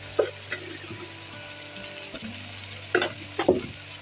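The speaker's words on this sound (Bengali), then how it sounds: "শুকনো ঝাল বাটা দিয়ে একটু নেড়ে চেড়ে নিলাম" Dry chili paste fries with garlic and cumin paste in a pan for a hilsa and taro curry, a low sizzle broken by a few scraping stirs and clinks of the spatula.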